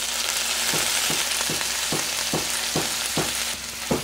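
Kangkong (water spinach) sizzles steadily in a hot pan while being stir-fried, with a loud continuous crackle and regular scraping strokes of a spatula about every half second, and no talking.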